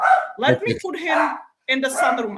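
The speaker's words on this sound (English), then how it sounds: "I am so sorry about my dog." A dog barks in short bursts close by, mixed in with a person's speech and a brief pause in between.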